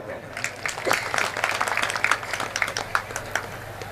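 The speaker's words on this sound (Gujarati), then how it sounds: "બેયને તાળીઓથી વધાવો." Audience applause at a live Gujarati comedy show, a steady patter of clapping from a crowd that continues throughout, mixed with indistinct voices.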